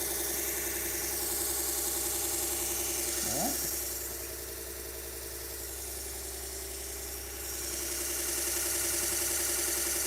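A sword sharpening machine running at 2,000 RPM, a loud steady mechanical hum and whine that continues unbroken and dips slightly in the middle, alone without talk.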